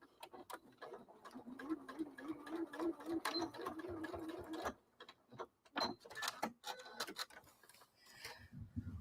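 A home sewing machine stitching around the edge of fabric with iron-on interfacing, a steady rapid mechanical chatter that runs continuously, then breaks into short stop-start bursts, fairly close.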